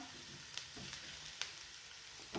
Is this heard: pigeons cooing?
no